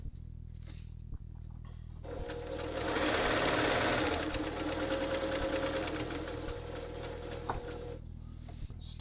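A sewing machine stitches the sleeve placket of a men's dress shirt, its low motor hum and rapid needle chatter swelling into a sustained run of several seconds, then easing, close up and without talk.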